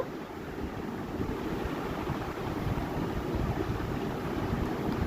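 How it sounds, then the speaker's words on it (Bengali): Water splashing as a bowl coated with leftover spice paste is rinsed while cooking a mustard-based bhola fish curry; a steady, close rushing wash of water carries on without a break. "বাটিতে অনেকটা মশলা লেগেছিল সেটাই একটুখানি ধুয়ে দিচ্ছিলাম ধুয়ে জলটা দিয়ে দেব"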